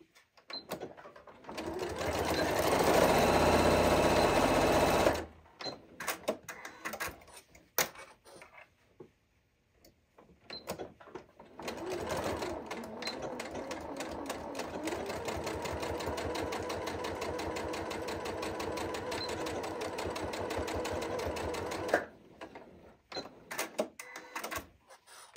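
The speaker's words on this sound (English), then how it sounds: "And stitch those darts." A sewing machine stitches darts in a fabric bowl cozy: a rapid mechanical whirring in two bursts, first about five seconds, then a longer steady run after a short pause, close and loud with no talking.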